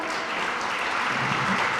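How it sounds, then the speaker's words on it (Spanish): Applause for award nominees at a merit cross ceremony in a hotel hall, a steady wash of many hands clapping at moderate volume, even and continuous throughout. "pedimos forte aplauso para turnos condecorados de 20 anos"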